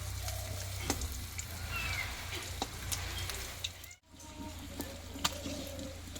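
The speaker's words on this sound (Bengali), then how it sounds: "এবার এখানে একই পোষে আমি চপগুলো ভেজে নেবো" A steady, quiet sizzle of Bengali egg chops frying in oil with occasional crisp pops, briefly cutting out midway before resuming.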